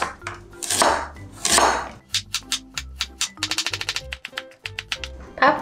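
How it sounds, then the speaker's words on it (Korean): A knife slices a carrot on a cutting board for japchae: a few slower, heavier strokes followed by a fast run of crisp, evenly spaced knocks, close and clear. "당근은 이게 좀 하나를 가지고 나왔는데 반 정도만 썰어 넣을 거예요"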